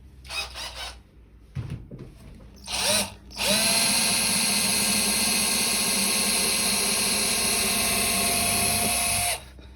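A small power drill with a 0.6 mm bit bores string holes in a bağlama: a few short whirring bursts start and stop, then a long steady high-pitched whine runs for about six seconds before cutting off, loud and close, no voices.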